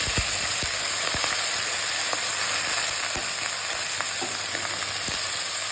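Steady, loud sizzling of garlic and prawns frying in oil in a pan, with occasional pops and light stirring clicks throughout.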